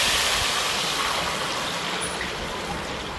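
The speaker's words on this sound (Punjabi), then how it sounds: "ਤੇ ਹੁਣ ਇਸ ਨਾਲ ਹੀ ਪਾ ਦਾਂਗੇ 2 ਗਲਾਸ ਪਾਣੀ ਦੇ" Water pours steadily into a kadhai over rice in a continuous rushing, splashing stream, close and fairly loud, with no voices.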